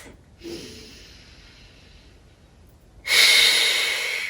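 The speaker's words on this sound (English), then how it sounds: "So breathing in through the nose, out through the mouth." A slow breath drawn in through the nose during a gentle stretching session, then a long, louder exhale out through the mouth, close and alone.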